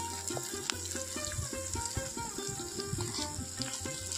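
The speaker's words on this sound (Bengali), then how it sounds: "পেঁয়াজ আর টমেটোটা তেলের মধ্যে খুব ভালোভাবে ভেজে নিতে পারি" Chopped onion and tomato fry in oil with green chillies and a pinch of salt for a besan sabji, making a faint sizzle with soft stirring clicks and scraping sounds throughout.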